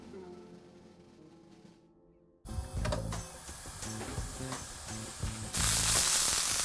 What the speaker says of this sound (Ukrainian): дістаємо м'ясо, смажимо на пательні